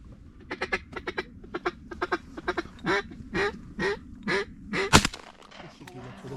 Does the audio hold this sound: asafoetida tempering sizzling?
no